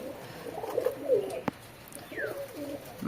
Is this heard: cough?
no